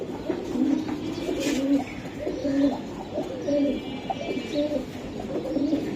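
Several high-flying Giribaj racing pigeons coo repeatedly in low, throaty rolling calls, close by, over a murmuring background of ambient noise at a pigeon sale.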